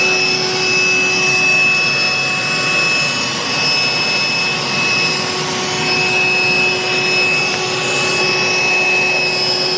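A vacuum cleaner runs steadily inside a caravan, a loud, close, continuous whine and roar with a high tonal hum and no breaks.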